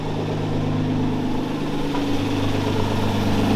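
A turbocharged drift car build idles steadily with worn turbos, a close, continuous low engine rumble with a constant, even tone throughout and no voices.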